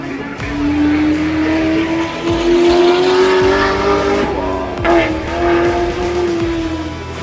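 Race car passing on a circuit during a racing weekend, a loud engine whine rising and holding in pitch as it goes by, with a brief lift mid-pass, heard over background crowd and track noise.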